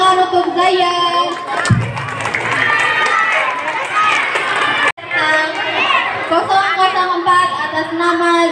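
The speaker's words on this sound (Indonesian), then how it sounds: "Tepuk tangan untuk Zayan." Audience at a Maulid Nabi competition applauds a contestant: dense, continuous crowd clapping mixed with cheering and voices, loud and close, with a brief drop near the middle before it swells again.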